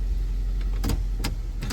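A Mk1 Honda CR-V, rebuilt after a crash, on a road test, gives a steady low engine and road drone with a few brief clicks and rattles over it.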